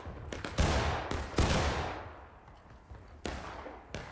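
Massed rifle volley in War of Rights, a Civil War era shooter: several loud, booming bursts of musket fire in quick succession, each a sharp crack trailing into a rumbling echo, with scattered shots between and no talk.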